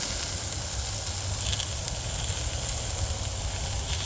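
Chicken breast sizzles steadily on a Blackstone 22-inch griddle, a close, continuous bright hiss and crackle of frying with no talking.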